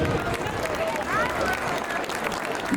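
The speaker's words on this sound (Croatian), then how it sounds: "jedan aplauz za ove naše cubiolice u noši" Dense clapping from a group at the Pag carnival in Croatia, with voices talking over the applause.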